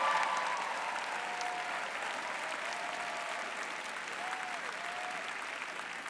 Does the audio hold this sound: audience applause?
yes